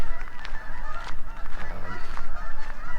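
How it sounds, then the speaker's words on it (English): Geese flying overhead honk in a rapid, repeated series of loud nasal calls, fairly close and continuous throughout, with no talking. "Yes, there's geese flying over."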